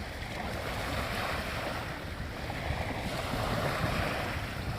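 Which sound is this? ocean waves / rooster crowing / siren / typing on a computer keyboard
ocean waves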